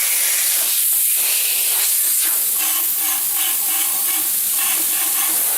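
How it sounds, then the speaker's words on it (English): Drywall texture spray gun leaking air continuously, a loud steady hiss of compressed air with faint fluttering pulses underneath and no talk. "Constantly blowing air like an air gun right from the get-go."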